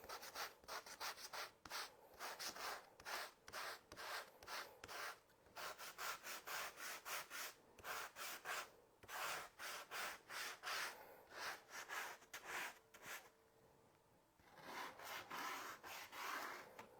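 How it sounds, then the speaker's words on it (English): Rhythmic hand sanding on painted wood of a cookbook stand, quick back-and-forth rasping strokes repeated steadily up close, with a short pause before the strokes resume. "I could sand it down a little bit around the edges since we're already sanding"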